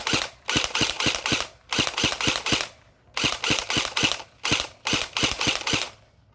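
An electric airsoft AK (AEG) fires on semi-automatic: tight clusters of four to six sharp snapping shots, each cluster followed by a short pause, loud and close with no voices.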